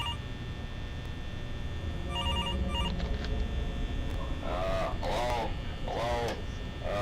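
A telephone rings in the horror game The Return to Freddy's, a repeated electronic ringing pattern over a steady hum, followed by muffled voice-like tones as the call picks up.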